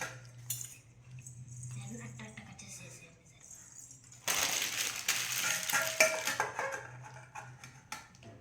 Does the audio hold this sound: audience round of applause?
no